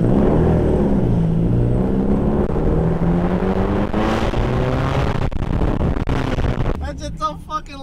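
A loud Subaru STI hatchback on E85 fuel holds a steady, roaring engine note close by, with a hard rev near the end, and people talk over the engine.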